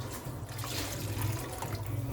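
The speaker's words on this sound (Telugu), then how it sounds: "వాటర్ యాడ్ చేద్దాం మనం, ఇది ఇంకా ఉడికేసరికి చిక్కగా అవుతుంది కదా" Water poured from a glass into a pan of brinjal curry with tamarind, a continuous splashing, bubbling trickle close by that lasts throughout.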